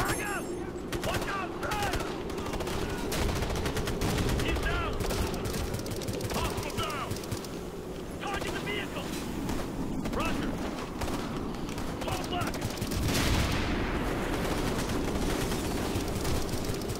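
Continuous gunfire in the video game Ghost Recon Future Soldier, a dense fusillade of shots and bursts over a steady battle din, with voices talking under the shooting.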